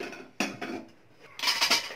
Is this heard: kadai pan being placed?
yes